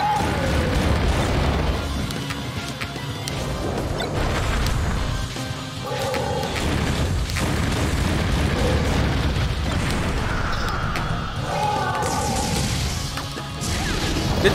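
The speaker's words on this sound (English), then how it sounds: "Did that fireworks launcher blow me up?" Fireworks launcher item exploding in the Super Smash Bros. Brawl Subspace Emissary mode, a loud crash and boom amid constant game effects, whooshes and music, with repeated impacts throughout.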